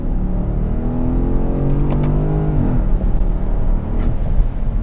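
A 2013 Porsche Cayenne GTS with a 4.8-litre V8, in sport and manual mode, downshifts and revs hard; a loud close engine note climbs steadily in pitch, then breaks off sharply with a gear change into a deep rumble.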